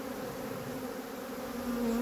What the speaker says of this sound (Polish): rój fajnie od razu podjął marsz do ula